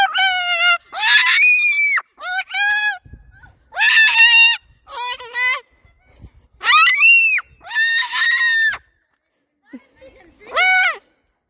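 A parrot outdoors at a park lets out repeated loud, harsh screeches in bursts of varying length, close to the listener, with brief pauses between calls.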